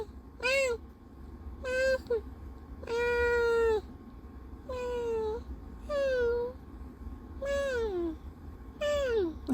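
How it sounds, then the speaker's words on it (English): A cat named Killua meows repeatedly, about eight gentle, fairly close meows spaced evenly with short quiet gaps between them, heard alone without talk. "how could I forget Kilua's meow?"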